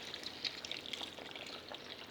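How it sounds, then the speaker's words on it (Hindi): Water being poured into a pan of Kashmiri dum aloo gravy, a steady hissing splash and trickle that runs continuously at moderate volume and close by, with no talking over it. "आप इसमें डालेंगे पानी, जितनी ग्रेवी आपको चाहिए आप उतनी रख सकते हैं"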